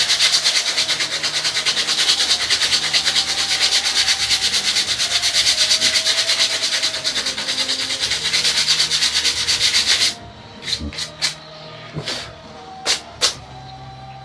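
Sandpaper rubbed steadily against a model assembly part, a loud continuous rasping scrub for about ten seconds, then a few short separate strokes.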